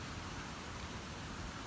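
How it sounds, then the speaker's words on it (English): Nighttime downpour after a thunderstorm makes a steady, dense hiss of falling rain, even and unbroken, with no voices. "at least I got this nice downpour"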